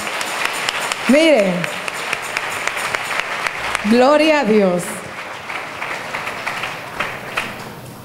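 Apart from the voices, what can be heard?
congregation applauding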